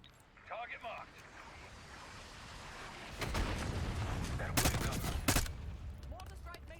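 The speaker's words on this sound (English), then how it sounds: "Mortar strike made short work of that situation." Mortar strike explosions in the Call of Duty: Black Ops 6 campaign land as a burst of heavy booms and rumbling blasts, several loud impacts in quick succession, following quieter battlefield noise and faint voices.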